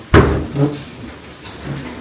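A door is shut hard in a home, giving one sharp, loud bang near the start, then a low room hum with faint murmuring.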